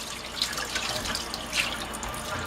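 Hot water runs from a kitchen tap over a large raw pork cut, rinsing it in a steady splashing stream with a few brighter drips and splatters, fairly close and alone without talk.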